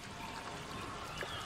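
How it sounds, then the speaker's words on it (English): Sludgy water pouring out of a bathtub in a TV show, a steady, muffled stream of liquid running quietly and continuously throughout. "It's sludgy water coming out of your bathtub."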